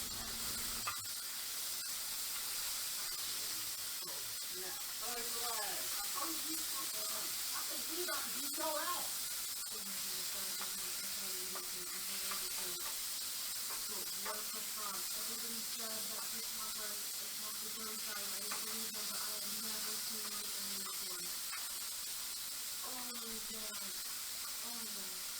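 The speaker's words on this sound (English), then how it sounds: "As you can see, it's starting to fry" Beef sizzling in a pan for keto Mongolian beef: a steady hiss of frying runs throughout, with a person talking over it.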